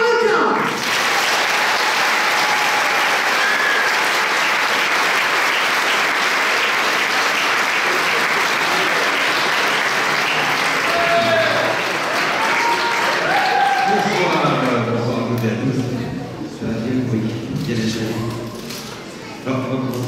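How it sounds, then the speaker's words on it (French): A live audience at a French magic and illusion show claps loudly and steadily to welcome the magician Claude Arlequin. The applause thins toward the end, and music and other sounds rise beneath it. "Alors vous allez nous faire un tonnerre d'applaudissements."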